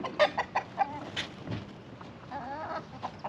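A hen clucks in short bursts nearby, with soft, high peeping from seven newly hatched chicks scattered in between.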